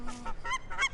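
Ducks honk and call in a quick series of nasal squawks, close and moderately loud, with a brief low hum underneath.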